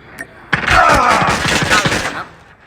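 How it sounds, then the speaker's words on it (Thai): Pistol gunfire in a shooting video game: a dense, continuous burst of rapid shots over about two seconds, loud and close, followed by a brief fade with a faint voice mixed in. "ขอสู้ด้วยปืนพกดีกว่า"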